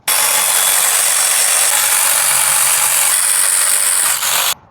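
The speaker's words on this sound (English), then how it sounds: "So I just loosen the bolts." A ratchet loosens the alternator bolts on a car, making a continuous fast, loud clicking rattle up close for over four seconds before stopping abruptly, with no talking.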